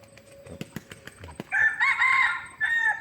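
A jungle fowl rooster in Udon Thani crows loudly and close by in a drawn-out call that breaks off and resumes, after a few sharp clicks and knocks.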